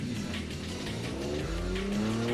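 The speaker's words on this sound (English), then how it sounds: "Coming in hot, Stu makes it around the turn." A 1989 Nissan 240SX drift car coming into a turn on track, its engine loud and close with rising revs and a tire squeal building toward the end.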